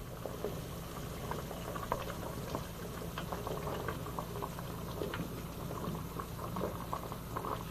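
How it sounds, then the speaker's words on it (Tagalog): Beef nilaga soup bubbling at a rolling boil in a pot, a steady dense patter of bursting bubbles, fairly quiet and close, with no talking. "Ayan po, kumukulo na yung ating"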